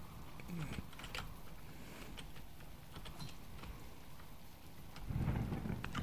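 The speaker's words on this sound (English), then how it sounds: "I really wish this rain would stop" Rain falling in the survival game Subsistence, a steady soft hiss with a low rumble swelling near the end, faint and unbroken, with no voices.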